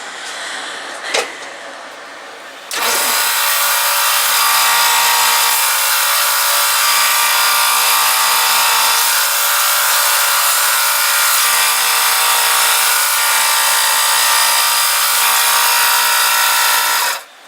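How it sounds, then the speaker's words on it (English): Wood for a passive iPhone speaker is sanded by hand, with the grain. A brief knock comes first, then a loud, close, continuous abrasive rasp starts abruptly and runs steadily for about fifteen seconds before stopping. "you sanded this way, and that was against the grain, and you need to sand it this way"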